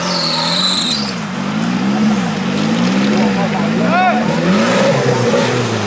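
Off-road race car with a Suzuki Vitara 1600 engine, competing in an open off-road event and running in poor condition, revs loudly and continuously close by, its engine note rising and falling with a brief squeal, under a commentator's voice.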